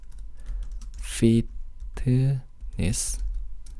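Keys clack on a computer keyboard while text is entered in Photoshop, a few scattered taps under a nearby voice that talks in short bursts.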